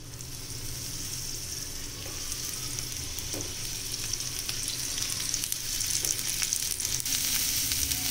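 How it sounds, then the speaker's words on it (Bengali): Potato, pointed gourd and jackfruit seeds fry in a little hot oil in a nonstick pan, giving a steady, loud, close sizzle with faint stirring scrapes throughout. "আলু, পটল আর কাঁঠালের বীজ এখানে ভেজে নেবো"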